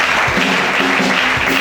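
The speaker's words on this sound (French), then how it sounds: "Acclamez chacun." A church congregation claps in a dense, loud burst of applause that fills the short moment without a break.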